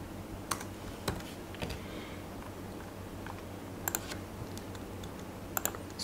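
Computer keyboard keys clatter in sparse, irregular clicks and short bursts, close and moderately loud against a quiet room hum, with no talking.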